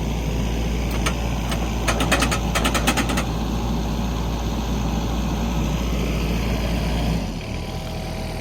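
A Yanmar Vio57 excavator runs at a steady, loud drone while drilling with an auger attachment driven through a rototilt. Rapid ticking clatters sound over the engine early on, and the engine note drops near the end.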